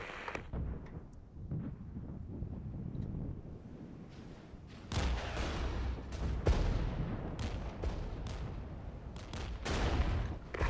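Artillery strikes and gunfire in the wartime strategy game Regiments, a rolling battlefield din of sharp cracks and booms scattered irregularly over continuous rumble, growing denser and louder midway, with no voices.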